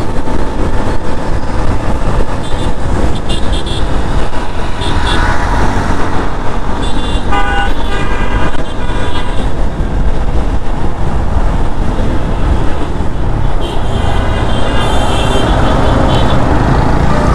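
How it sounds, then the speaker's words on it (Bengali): Horns toot repeatedly over loud roaring traffic on a highway, heard from a fast-moving Apache 4V 160 or Yamaha FZS V2 motorcycle, with wind and engine noise constantly underneath. "আমার হর্নে ব্যাক চলে আসছি, এই হর্ন ছাড়া আসলে হাই রোডে টেনে মজা নাই"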